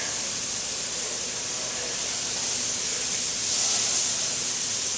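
Onions, garlic and tomatoes sizzle in hot oil in a paella pan, giving a steady, close hiss that swells a little louder toward the end, with no talking over it.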